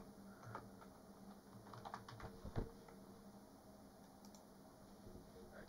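Typing a password on a computer keyboard: a short run of soft, quiet key taps with a faint fan hum beneath, alone with no talk.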